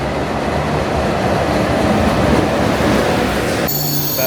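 A train pulling into a station in Korea, a loud continuous rumble of rolling wheels and rail noise, with a high metallic squeal of braking wheels rising near the end.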